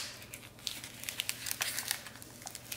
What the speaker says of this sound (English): and then pull the backing off